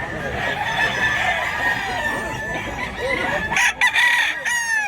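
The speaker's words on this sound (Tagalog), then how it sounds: "Magandang manok." Roosters crow repeatedly at a busy chicken market, loud and close, with clucking fowl and a steady chatter of people talking in the background.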